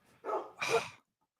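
A dog barks twice in quick succession, two short, close, fairly loud yelps followed by quiet.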